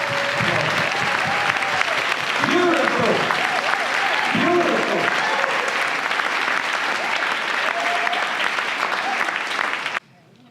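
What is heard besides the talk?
audience applause for award honorees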